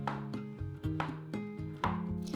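A knife cuts through melon and salt-cured pork shoulder on a board, making a series of about eight crisp, evenly spaced chopping taps, close and alone, with faint background music.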